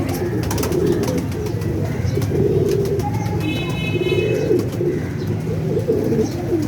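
Pigeons coo in a loft kept for pigeon fancying, soft low repeated calls running steadily throughout alongside other bird chirps, a short high trill partway, no clear talk.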